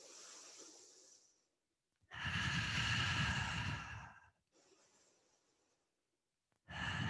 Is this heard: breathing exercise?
yes